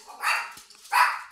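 Two short bursts of dog barking from the video game Sylvio 2, moderately loud with a brief pause between them and no talk over them.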